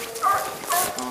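Coonhound Boone barking at a treed raccoon, two short distant barks spaced apart amid outdoor night noise.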